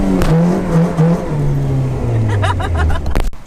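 A B-series car engine, newly running again on solid motor mounts, revs up and down loudly close by, its pitch rising and falling in a few pulls before a sharp clunk at the end.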